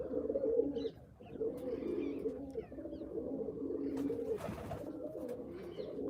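Several pigeons coo in soft, rolling bursts close by, with a few faint chirps and a brief rustle in a quiet space.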